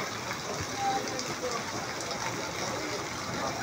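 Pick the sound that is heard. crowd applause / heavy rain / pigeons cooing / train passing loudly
heavy rain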